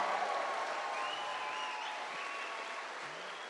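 Sustained crowd applause at a Bedford campaign event with Tulsi Gabbard, a dense, steady wash of clapping and cheering that holds loud throughout and eases slightly toward the end.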